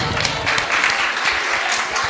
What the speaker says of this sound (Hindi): भाई पंडित जी के लिए जोरदार तालियां